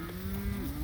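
A cow lets out a single low, sustained moo during a cattle drive, close and clear, lasting under a second.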